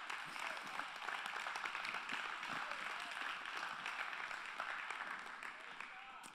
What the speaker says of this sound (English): And an elder started that hand clap just now.